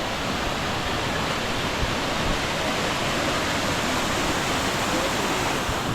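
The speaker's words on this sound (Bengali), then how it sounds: "ভুপরা ওয়াটারফলসে" Waterfall at Bhupra Waterfalls in Goa, a dense steady roar of rushing water filling the scene without a break.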